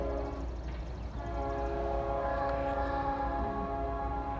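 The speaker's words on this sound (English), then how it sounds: "I hear a train." A northbound train at Winder, Georgia sounds its horn in sustained chords over a steady rumble of rolling cars nearby, loud and continuous throughout.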